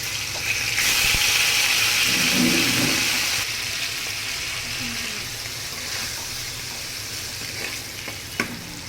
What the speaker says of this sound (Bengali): তেলের মধ্যে আমি একটু নুন দিয়ে পনিরগুলো ভেজে নিচ্ছি।